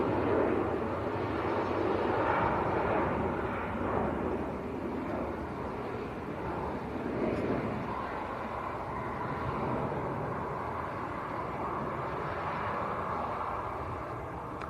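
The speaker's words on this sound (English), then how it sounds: "Loganair Embraer just getting airborne." A Loganair Embraer jet takes off at Manchester Airport, heard as a steady, fairly distant engine roar that holds and slowly fades over about fifteen seconds with wind noise.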